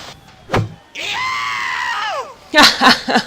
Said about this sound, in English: These stupid people may talk like cotton-mouthed Sims, but they shriek with an unholy clarity.